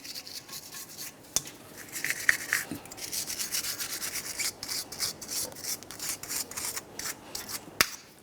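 A wire brush scrubs the steering knuckle area of a 2011-2020 Toyota Sienna's strut assembly, making steady, fairly quiet back-and-forth scraping strokes punctuated by a couple of sharp metallic ticks.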